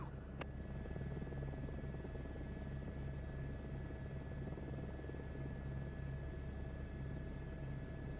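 A Huey helicopter in Microsoft Flight Simulator 2024 drones steadily with a low, continuous rotor and engine hum throughout, even and unbroken, heard alone without voices.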